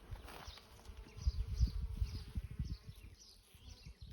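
Bees buzzing among poppies and roses on an Australian flower farm in late spring, faint wavering buzz drifting in and out at a distance over a quiet outdoor background, no voices.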